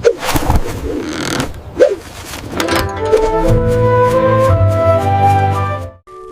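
A pigeon in an animated animal story gives a run of low, rounded coos, after some scattered thumps and rustles, fairly loud and close.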